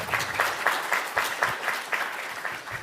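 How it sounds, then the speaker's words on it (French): A seated audience claps after a talk on shade structures and agrivoltaic systems, giving dense, sustained applause with a pulsing rhythm of louder hand claps throughout. "On peut déjà les applaudir"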